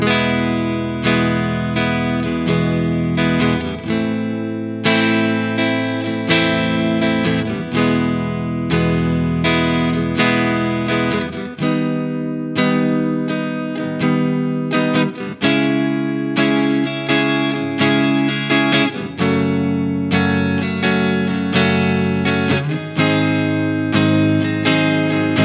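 First verse chord sequence played in time on a distorted instrument, loud and dense chords changing at a steady pace, sustained and continuous with no voices.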